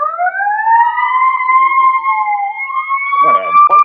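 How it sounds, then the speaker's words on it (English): An emergency vehicle siren wails outside, loud and steady with a smoothly rising and falling tone throughout, briefly joined by a voice near the end. "I'm fucking with that siren"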